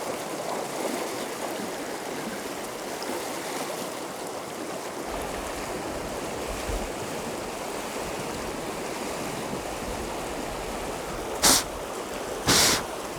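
Fast-flowing water in a mountain stream rushes loudly and continuously, a dense, even hiss close by with no voices, joined by two short sharp clicks near the end.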